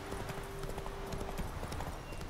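Horse hooves clip-clop steadily in The Witcher 3 on PC, a continuous rhythmic trot of game footsteps at moderate level without talk.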